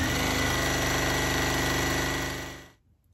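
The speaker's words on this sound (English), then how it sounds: "we're just gonna put this in the machine and get ready to actually start sewing" Sewing machine stitching fabric strips, a steady fast mechanical whir with rapid rhythmic needle thumping, loud and close for nearly three seconds before stopping abruptly into silence.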